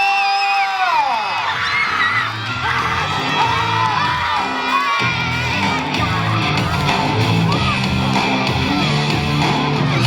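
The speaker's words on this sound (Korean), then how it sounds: "선수 입장할 때 박수 한호성 부탁드리겠습니다" A large crowd at a youth football academy festival cheers, whoops and yells loudly and continuously as players enter, with high excited voices and shouting filling the space throughout.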